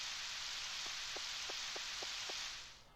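Steady, even rain hisses throughout in the Harvest Moon 64 video game, with a short series of soft, evenly spaced thumps partway through, then fades slightly at the end.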